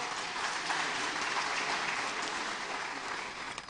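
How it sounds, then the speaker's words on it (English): Audience applauding panelists at a town hall meeting in Abuja, an even, sustained roar of clapping from a large crowd, heard at moderate level before tapering slightly at the end. "Please, a round of applause for our panelists."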